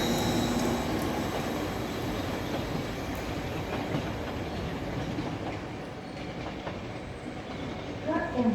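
A Class 755 electric train departing a station rumbles steadily nearby for several seconds, its low continuous roar filling the scene, with a brief rise in noise near the end.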